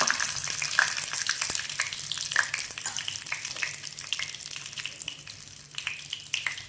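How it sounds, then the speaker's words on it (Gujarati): Cumin, asafoetida and a dried red chilli sizzle in hot oil, a close, steady crackling fry with scattered small pops and the light scrape of stirring. "અને અડધી ચમચી જેટલી હિંગ નાખીશું."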